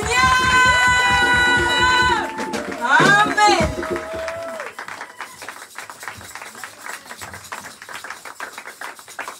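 A church congregation at a Sunday service applauds and cheers to welcome the pastor, a dense patter of clapping rising after sung and shouted voices fade, loud and close, continuing steadily to the end.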